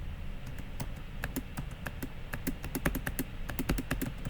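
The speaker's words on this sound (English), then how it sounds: "You can maybe hear the clicking of the keys here." Computer keys clicking under a player's fingers while a kick animation is triggered in Unity 6, quick irregular taps in short bursts, close and fairly soft, with no talking.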